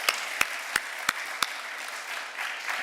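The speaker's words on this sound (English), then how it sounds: "Please, another round of applause for Mrs." An audience at a rehabilitation centre event applauds, a steady bright wash of clapping with a few sharp, evenly spaced louder claps near the front.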